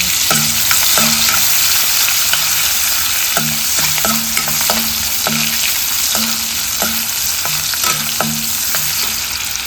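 Onion sautéing in a pan: a loud, close, continuous sizzle with frequent clicking and scraping strokes of a spatula as it is stirred, and a faint repeating tonal hum in the background, no voices.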